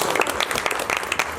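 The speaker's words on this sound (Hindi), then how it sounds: "एक बार ताली जाने, राधे राधे।" Devotees at a Bhagwat katha break into applause, a brisk, loud burst of many hands clapping close by with sharp individual claps standing out.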